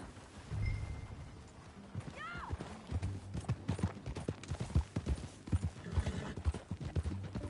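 Horse hooves trotting in a steady clip-clop rhythm in Red Dead Redemption 2, with a brief whinny early on and low rumbling in the background.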